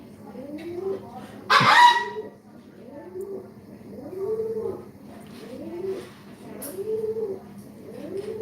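Pet birds, pigeon or dove-like, give a run of soft, rhythmic cooing calls close by, repeated roughly every second, with a sudden loud knock or rustle early on.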